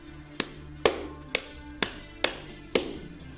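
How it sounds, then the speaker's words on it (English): A hammer lightly taps Raffix fittings into pre-drilled holes in wall bed panels, six sharp, evenly spaced knocks about half a second apart, close and clear with short ringing decays and no talk. "Take your hammer and lightly tap the one end first and then the other"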